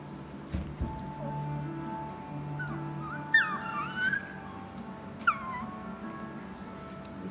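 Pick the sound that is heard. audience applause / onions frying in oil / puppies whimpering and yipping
puppies whimpering and yipping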